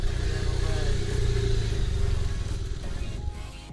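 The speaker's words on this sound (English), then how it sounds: "He was on his motorcycle." A motorcycle pulls away close by, its engine revving and clattering loudly before fading slightly as it rides off.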